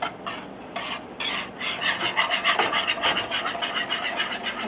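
Parmesan cheese sauce stirred in a pan over medium heat, a spoon scraping and rasping steadily against the bottom in close, continuous strokes with no voices.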